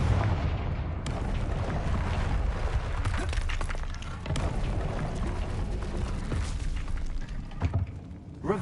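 Booming magical explosions from the Confringo blasting spell in Hogwarts Legacy, a steady loud rumble punctuated by sharper bursts and a shattering crack or two, with no voices over it.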